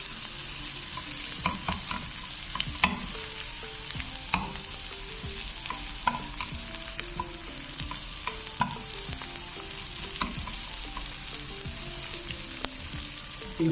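A spice tempering (tadka) with chilies sizzles steadily in a pot for potato and spinach curry, with frequent clinks and scrapes of a spoon stirring throughout.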